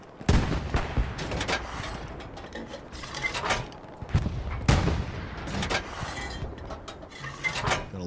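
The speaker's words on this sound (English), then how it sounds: "Just firing indiscriminately into that smoke." Gunfire in the Hell Let Loose shooter on the Foy map, with shots sent blindly into smoke near an anti-tank gun: a run of sharp, loud cracks and booms at uneven intervals, some overlapping with rumbling tails.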